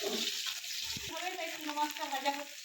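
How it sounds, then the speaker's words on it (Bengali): Catla and small fish frying in hot oil, a steady broadband sizzle filling the whole stretch, with a voice speaking over it partway through. "দেখো মাছ ভাজা হচ্ছে, এই জন্য কাতল মাছ ভাজা হচ্ছে রেখেছি।"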